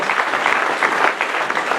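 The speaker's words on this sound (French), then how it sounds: "pour que tu apprécies tous les applaudissements que tu peux" A short burst of dense audience applause fills a hall at a French municipal campaign event in Périgueux. The clapping is close and continuous.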